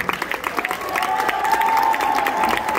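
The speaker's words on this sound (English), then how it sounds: "Let's give them a big round of applause, ladies and gentlemen" Audience at a hypnotist comedy show at Trine University breaking into applause, dense rapid clapping with cheering and a raised voice on top, close and sustained.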